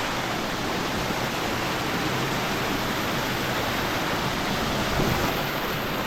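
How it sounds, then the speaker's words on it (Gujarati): A jungle stream near Junagadh flows steadily where people bathe in the water, giving a continuous close rush and hiss of running water with no break for the whole stretch. "વહેતા પાણીમાં"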